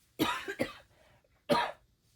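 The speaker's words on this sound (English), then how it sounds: "I'm going to cough again." Two harsh coughs close to the mic, a quick double cough followed by a single one after a brief pause.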